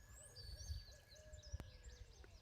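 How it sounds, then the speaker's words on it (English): An owl hoots softly in the distance outdoors, a faint call over low rumbling background noise, with a sharp click partway through. "Can you hear my hoot owl?"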